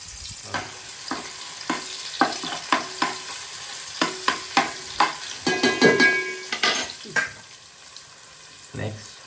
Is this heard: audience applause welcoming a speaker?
no